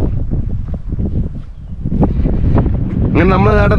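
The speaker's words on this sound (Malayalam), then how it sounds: "ഇവിടെ നല്ല ഇടിവെട്ട് കാറ്റാണ്, നല്ല അടിപൊളി കാറ്റ്" Strong wind gusts across the rock summit of Parunthumpara in Idukki, Kerala, buffeting the microphone in loud, rough rumbles, with a voice breaking in briefly near the end.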